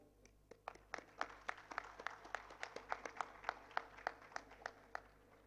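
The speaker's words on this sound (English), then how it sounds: "have a big applause to the entire team" An audience at a Nord Anglia Education gathering applauds the team, a faint, distant round of clapping with sharp claps landing in a fairly even, steady rhythm throughout.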